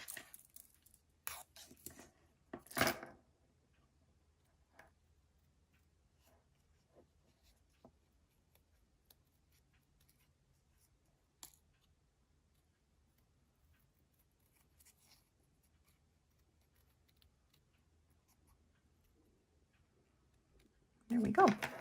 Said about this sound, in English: now I'm going to cut off some extra so I can get in here a little bit closer to these antennae